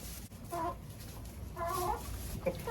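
Hens clucking inside an enclosure, several short bursts of clucks spaced across a quiet background, moderately close with no talking.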